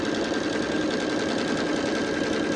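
A sewing machine stitching a quilt block runs in a close, steady, fast mechanical whir with an even buzzing pulse and no pauses or voices.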